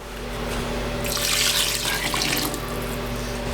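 Water pours from a tap into a soup pot holding broccoli, a steady splashing rush that swells partway through and then settles, close by with no talking.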